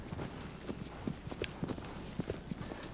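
A horse gallops in Shadow of the Colossus, its hooves giving quick, uneven clip-clop beats over a low background rumble, close and fairly quiet, with no voices.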